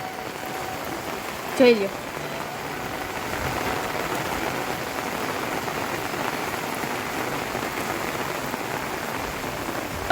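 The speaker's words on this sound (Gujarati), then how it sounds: "જો કેવો સરસ વરસાદ આવે છે, તમે પાછળ જોઈ શકો છો." Heavy monsoon rain pours onto a rooftop terrace in Junagadh, drumming on an umbrella overhead in a dense, continuous hiss; someone speaks briefly near the start.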